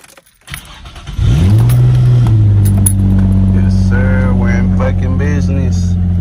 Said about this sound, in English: Car starts.